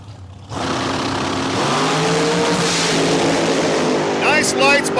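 A dragster roars off at Cordova Dragway during an Independence Day drag racing event, its engine blasting in loud and close with rising, rasping revs, while an announcer's voice runs over the noise.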